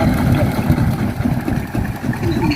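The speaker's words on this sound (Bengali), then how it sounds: "এই যে নৌকা আসতেছে, এখনই নৌকা আসবে আমাদের কাছে।" A river boat's engine putters steadily on the Teesta river at a char near Mekhliganj, a low, moderately close drone with faint voices in the background.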